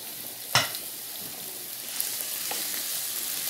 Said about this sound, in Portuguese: Então, nós vamos deixar a cebola fritar para nós continuar.